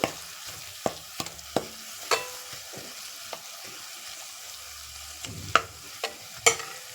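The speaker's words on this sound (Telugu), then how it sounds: "ఇంకొంచెం ఫ్రై చేయాలి పచ్చివాసన పోయేంత వరకు ఆయిల్లో బాగా మిక్స్ అవ్వాలి ఫ్రై అవ్వాలి" Spices frying and being stirred in hot oil for a Telugu-style fish curry: a steady soft sizzle broken by repeated sharp scrapes and clinks of a spoon against the pan, close up, with no talking.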